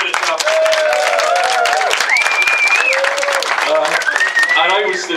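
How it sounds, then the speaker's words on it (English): Wedding guests at a dinner clap and cheer for someone, steady loud applause with whoops and voices calling out over it throughout. "Round of applause for Mr."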